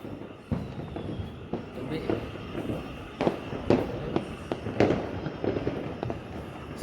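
New Year 2021 fireworks go off in a string of sharp pops and bangs, some close and some farther off, bursting irregularly while people talk over them.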